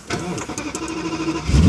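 An Audi S8's engine cranks briefly with the starter and catches, firing up with a sharp rise in loudness at the end, close by and without talk.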